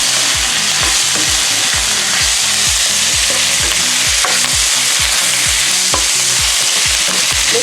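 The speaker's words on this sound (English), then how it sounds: "Let's cook the sausage" Sausage frying in a pan while being stirred, a loud continuous sizzle cut by regular scraping, knocking strokes of the utensil, close up with no voices.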